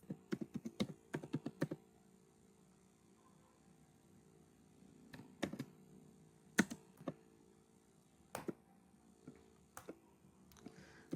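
Clusters of sharp keystrokes on a computer keyboard, typed in short bursts with pauses between them, close and fairly quiet in a still room.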